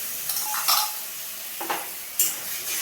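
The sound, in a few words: adding whisked yogurt to bitter gourd curry in pan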